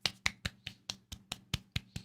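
A single person claps hands in a quick, even rhythm, about ten crisp claps spaced roughly a fifth of a second apart, close by but fairly soft, with no talking.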